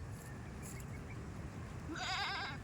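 A goat recovering from an eye ailment on a farm gives a single wavering bleat near the end, over steady outdoor background noise.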